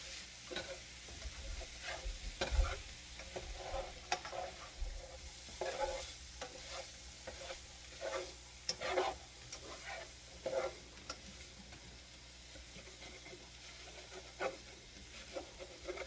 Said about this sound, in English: that sausage is going to have enough grease on its own once it fries a little bit